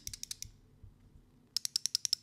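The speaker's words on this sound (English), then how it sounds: "They both click. The clicking sound of the version 2," Crisp clicks from a Lautie Shuffle V2 slider fidget toy, a quick run of about five sharp snaps, a short pause, then a steadier burst of about eight, close and loud with no talking.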